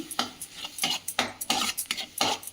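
Fried fenugreek leaves and cooked toor dal being stirred together in a pan, heard as a run of short scraping, clinking strokes of a spoon against the vessel in an irregular rhythm, close and fairly quiet, with no talking.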